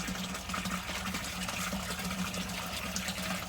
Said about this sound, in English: So we get like about 150 gallon flush about every 15 minutes here.